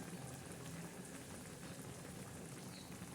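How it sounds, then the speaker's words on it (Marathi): Dill and peanut vegetable curry simmering at a rolling boil in a pot, a steady soft bubbling and sputtering texture that stays even and quiet throughout, with no voices over it. "कशी उकळी येऊ राहिली भाजीला"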